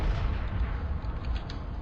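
Artillery firing in a Warhammer-style strategy video game, a deep low rumbling boom that fills the short stretch at a steady loud level with no voices.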